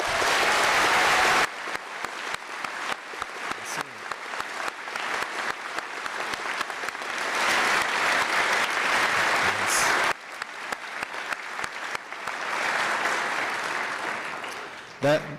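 A high school gym crowd at a Veterans Day assembly claps loudly for veterans, the applause stopping briefly, swelling again, then tapering, with voices mixed in.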